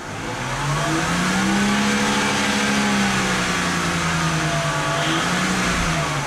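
A 2008 BMW 328 with a VANOS fault revs its engine up to about 4,000 RPM, a loud, sustained close-up engine drone rising and settling with no talk over it.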